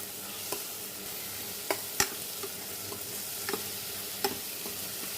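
Tomato and potato sautéing in a pan: a steady soft sizzle of frying with occasional faint clicks of stirring, quiet and close, with no talking.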